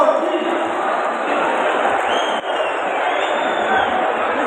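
A large crowd roars and cheers to welcome Narendra Modi at a public rally at Kayad Vishram Sthali in Ajmer. The dense, sustained noise holds steady throughout with no clear pauses.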